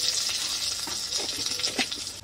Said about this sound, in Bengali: ওই তেলে আমি দুটা শুকনো লঙ্কা দিয়ে দিব, এলাচ দিয়ে দিব, তেজপাতা দিয়ে দিব